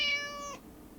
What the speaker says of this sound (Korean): 고양이가 우는 소리가